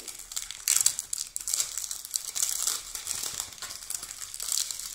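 Close, quiet crinkling and rustling of packaging around a Yessency Hyper Passion perfume, steady handling with small crisp crackles and no voice.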